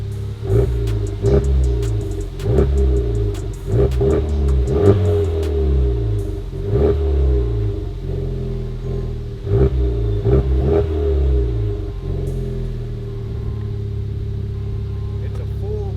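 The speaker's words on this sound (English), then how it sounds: "It's on idle, and it just has a nice deep tone" A car with a full catback exhaust and Bird Titanium tips idles with a deep, steady, non-raspy rumble, pulsing in a regular rhythm and loud up close throughout.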